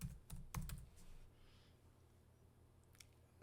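Someone types a command on a computer keyboard while making a macOS Catalina USB boot disk: a quick burst of close, crisp key clicks at the start, then a few sparse taps over a low hum.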